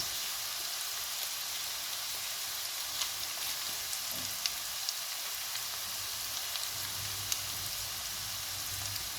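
Chicken cubes sizzling in a hot pan, a steady soft crackle with occasional small pops, moderately quiet and without talk.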